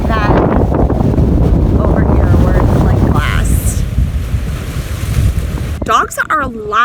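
Rough lake water slaps against a brick wall at Lighthouse Point, Cedar Point, with heavy wind buffeting the microphone and churning wave noise, and a brief high whistle partway through.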